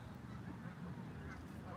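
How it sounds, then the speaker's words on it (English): Geese honking at close range while being fed bread outdoors, a steady cluster of calls over continuous background noise with no speech. "They're not your normal geese, guys."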